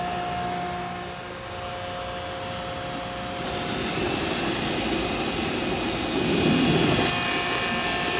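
A pump for a farm chemical sprayer starts up and runs at spring planting, a loud, close roaring whir that builds after a couple of seconds and holds steady, swelling briefly near the end, with no talk.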